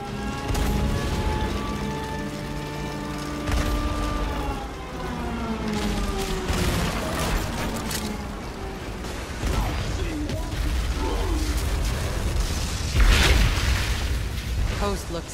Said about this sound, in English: Artillery support incoming!